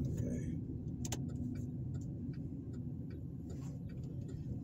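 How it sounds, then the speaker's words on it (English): A car drives through downtown Tuskegee, Alabama, its engine and road noise a steady low rumble heard from inside, with scattered small ticks and clicks in the cabin. "I am now driving through downtown Tuskegee."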